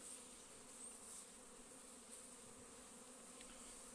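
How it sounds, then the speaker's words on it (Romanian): Honeybees swarming around hive colonies after rain in cool weather make a dense, steady outdoor buzz that fills the whole moment, many insects droning together without a break. "Acum parcă s-a umplut de albini."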